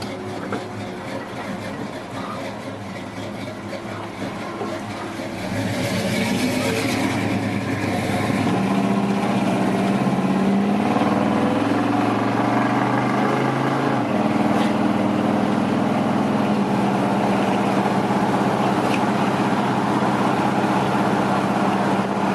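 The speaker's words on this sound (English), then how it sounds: "This truck has a great sound." A 1983 Chevrolet C10 Custom Deluxe pickup's engine rumbles while driving, quieter at first and then rising to a steady, louder drone with shifting pitch as it accelerates.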